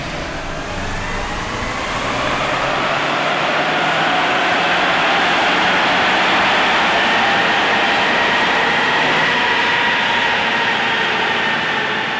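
Ford Bronco Sport engine revving on a chassis dyno in fourth gear, a loud sustained roar that climbs steadily in pitch as revs rise, with roller and fan noise beneath and no talk.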